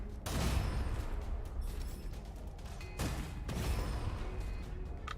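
Launcher weapon firing in the shooter game Gunfire Reborn, dense rumbling bursts and blasts that fill the whole stretch, with two sharper explosive hits standing out, alone without talk.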